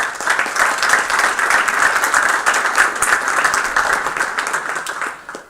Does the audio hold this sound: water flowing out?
no